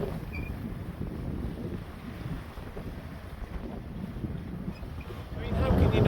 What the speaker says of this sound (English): This boat is stonking along